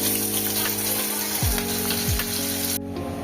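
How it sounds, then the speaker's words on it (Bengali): Chopped onion and green chilli sizzle steadily while frying in masala for egg devil, a continuous close crackle with a couple of low clunks partway through, then the sizzle cuts off abruptly near the end. "মশলাটা কষিয়ে নেব দেখো এখানে পেঁয়াজ আর কাঁচা লঙ্কা কুচানো দিলাম"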